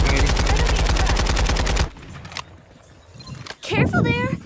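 Fast, loud automatic weapon fire in the Farlight 84 shooter game, with evenly spaced shots for nearly two seconds that stop abruptly. Quieter game effects and a voice follow.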